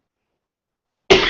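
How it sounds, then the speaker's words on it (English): A single sharp cough bursts in after a second of silence, close and fairly loud, ending the clip. "I apologize for coughing."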